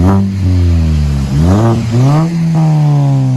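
A 2006 Mini Cooper 1.5L exhaust with a DTM muffler revs sharply several times in a row, each blip rising then falling back to a deep, steady idle; loud and close.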